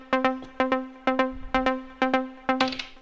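A simple melody sequenced on an Elektron synthesizer plays as a steady run of short, plucky repeated notes, often in quick pairs, with sharp attacks and quick decays, heard clearly with no talking.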